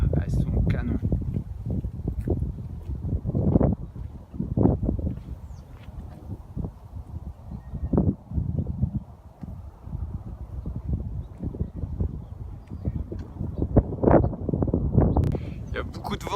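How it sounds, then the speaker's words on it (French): Strong wind buffets the microphone outdoors in New Mexico, making uneven low rumbling gusts that come and go in bursts. A person keeps talking underneath throughout. "Il y a beaucoup de vent, j'espère que vous allez m'entendre"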